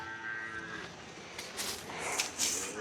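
Jaffrabadi buffalo lowing at a sale in Hyderabad, a couple of fairly faint, drawn-out moos rising and overlapping over quiet farmyard background.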